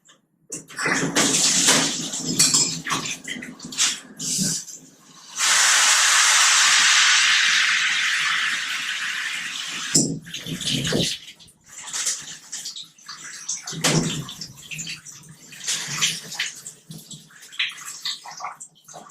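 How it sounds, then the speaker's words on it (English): Water from a detachable handheld shower head pours into a flow-measuring bag, a loud steady hissing rush with a long continuous burst midway and shorter splashing bursts before and after. "If you have a detachable handheld shower head, grab the shower head. Put the flow bag around it and measure it for 5 seconds."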